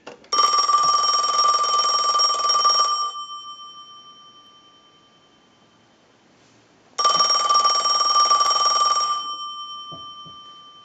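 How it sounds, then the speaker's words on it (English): A Western Electric Princess telephone, under repair, rings its bell in two loud, sustained bursts of about three seconds each, separated by a pause of several seconds. "We'll go ahead and ring the unit."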